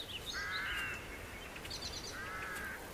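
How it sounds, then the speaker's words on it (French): Ravens caw in two separate bursts of harsh, grating calls, each lasting under a second with a long pause between, at moderate distance over faint background noise. "Observez les corbeaux."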